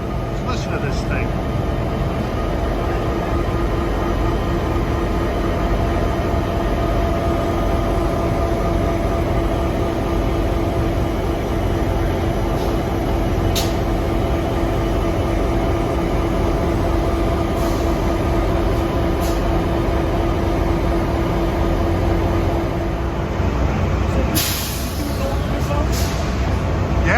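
NJ Transit locomotive 4101 idling beside a platform at Hoboken Terminal, a loud, steady diesel drone with a constant hum and faint clanks, heard up close and continuous, with people talking nearby.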